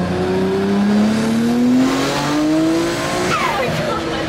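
A Nissan R34 GT-R pulls hard through third gear, its engine note rising steadily, loud and close from inside the car, with a shift near the end and voices talking over it.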